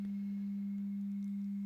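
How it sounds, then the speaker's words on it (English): A DAW tone generator plays a steady pure sine wave test tone at a fixed pitch, unwavering and alone over a faint background. "you will be able to hear like a sine wave now playing at minus 36 decibels"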